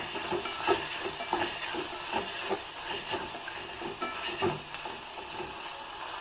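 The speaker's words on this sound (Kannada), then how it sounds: "ಇದನ್ನು ಹಾಕಿಬಿಟ್ಟು ಚೆನ್ನಾಗಿ ಬಾಡಿಸ್ಕೋಬೇಕು ಈ ಎಣ್ಣೆಯಲ್ಲೇ ಕ್ಯಾಪ್ಸಿಕಮ್ ಚೆನ್ನಾಗಿ ಬಾಡಬೇಕು" Chopped capsicum sautéing in oil in a pan: a steady, soft sizzle with repeated light scraping and stirring knocks, close and moderately quiet.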